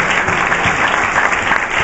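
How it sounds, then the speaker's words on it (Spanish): Church congregation at an evangelical service giving loud, dense, continuous applause during worship, close and steady throughout. "Dale fuerte el aplauso, Señor."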